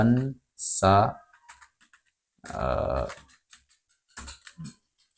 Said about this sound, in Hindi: फिर से मैं टाइप कर देता हूँ